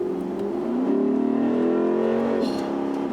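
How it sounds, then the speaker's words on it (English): A 2016 Lexus GS F V8 engine revs and accelerates with a deep, throaty growl that rises in pitch, close and steady throughout. "Makes all the right V8 noises"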